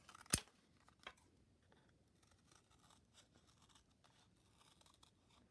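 Scissors cutting card, opening with a sharp close snip, then quiet scattered slicing and scraping as the blades work slowly around a shape.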